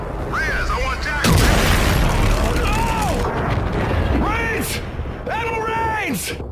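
Enemy weapons fire and explosions in the video game Call of Duty Infinite Warfare: a heavy boom lands early and the rumble rolls on beneath rising and falling whooshes and sweeping tones, with voices speaking over the din.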